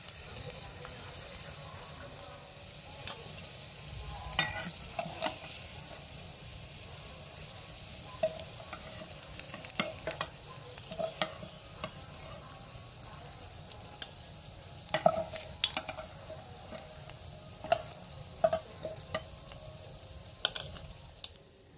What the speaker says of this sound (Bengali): নাস্তাটাকে হালকা একটু ভেজে নিয়েছি